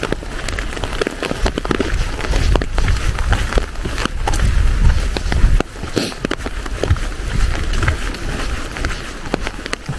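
Steady rain falls while hikers walk along a beach trail, a dense, close hiss of drops hitting surfaces with soft footsteps underneath and no clear talk.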